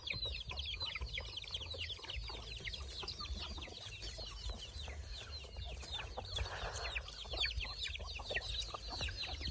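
Chickens cluck continuously around a farmyard, a busy overlapping chatter of hens with steady background noise.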